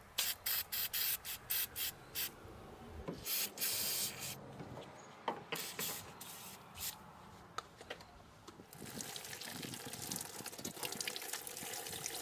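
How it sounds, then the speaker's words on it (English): Repeated short hissing bursts of an aerosol spray cleaner, followed by a longer continuous spray, close and fairly loud. "I also like to use the spray cleaner as well."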